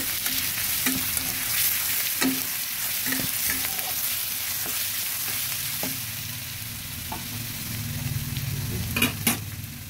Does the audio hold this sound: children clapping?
no